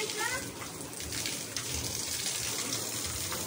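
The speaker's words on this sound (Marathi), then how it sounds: "पाणी भरतोय आज" Tap water runs into a container at a Konkan village home during rain, a continuous close splashing rush that stays steady throughout.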